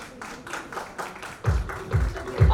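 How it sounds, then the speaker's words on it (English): Audience applause at the Pride of India Icon Award 2021 ceremony: rhythmic bursts of clapping from a room crowd, growing louder midway as deep thumps, probably music, join in. "Can we have a loud round of applause, everyone in the room?"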